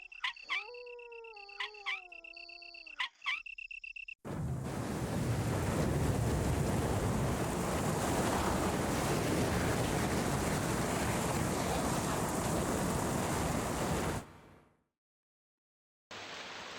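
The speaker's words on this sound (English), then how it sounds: "The water is running down the opposite side." Running water in the 1996 video game Resident Evil, heard as a loud, steady broadband rush that holds for about ten seconds before cutting off, after a short stretch of tonal game sounds.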